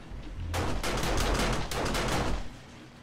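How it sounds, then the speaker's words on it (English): Automated base turrets in 7 Days to Die, Alpha 16, spraying rapid gunfire in a dense, sustained volley that lasts about two seconds before cutting off. "I think we're getting shot."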